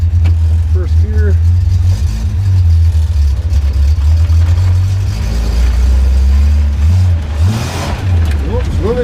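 A Datsun 240Z's engine revs up in first gear, loud and close, with a steady mid-range drone rising in pitch as the car pulls away and the tires briefly spin. Someone talks over it.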